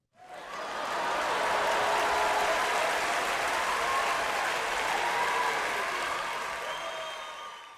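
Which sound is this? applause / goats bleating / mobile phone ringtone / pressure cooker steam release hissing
applause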